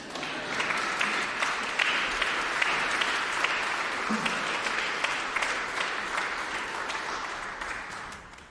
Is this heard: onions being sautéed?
no